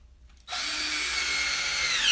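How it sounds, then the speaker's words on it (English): A power drill drives screws into wood, starting abruptly after a quiet moment and whining steadily at close range. "This part should be easy, just sinking screws now."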